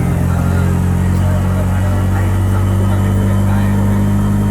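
A small-engine auto rickshaw hums at a steady idle-to-cruise drone while driving on a road, constant and close throughout, with occasional voices underneath.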